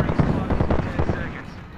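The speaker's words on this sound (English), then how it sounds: "Stand back, knuckle cluster firing." Fuse's knuckle cluster firing in Apex Legends, a rapid crackling burst of small popping detonations like firecrackers, loud and close, fading toward the end, with voices talking over it.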